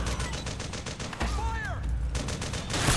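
Rapid gunfire in Metal Gear Solid 4, dense bursts of automatic weapons crackling close and loud through most of the stretch, with shouted game voices breaking in between volleys.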